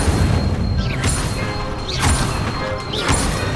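Spells cast in Hogwarts Legacy, including the Incendio fire spell, land as three punchy whooshing bursts with thuds, about a second apart, over a steady game backdrop.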